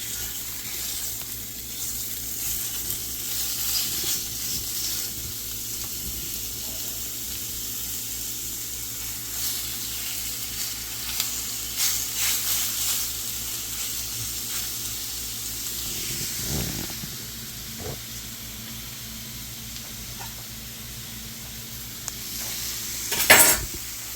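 Food sizzles steadily in a cast iron skillet over a fire, with scraping stirs scattered throughout and a louder clatter near the end, no talking.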